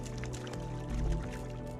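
Character drinking water from a source in the Star Rupture survival video game, a short soft gulping and sloshing liquid sound over low background music.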